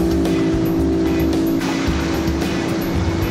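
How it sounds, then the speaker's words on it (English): Two outboard engines of equal horsepower, an Evinrude E-TEC and a Yamaha, run hard as their boats pull against each other in a tug-of-war. They make a loud, steady, droning engine hum with a strong tonal pitch. "Here are two engines with the same horsepower, but look at the difference E-TEC's tremendous torque makes."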